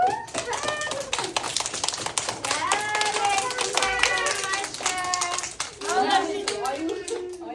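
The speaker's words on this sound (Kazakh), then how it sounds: "Қане қошемет шапалақ" Children applaud together in a burst of quick, uneven hand claps, with excited young voices calling out over the clapping.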